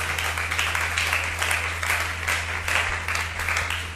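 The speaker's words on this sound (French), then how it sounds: "Acclamons pour le Seigneur Jésus" A congregation at a French-language church service applauds, a steady wash of many hands clapping that holds evenly for several seconds with no voices over it.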